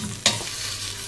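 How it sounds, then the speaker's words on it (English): Steady, close sizzling of meat searing in a hot pan on a homestead kitchen, with one brief sharp scrape near the start. "we've got a nice sizzle sizzle going"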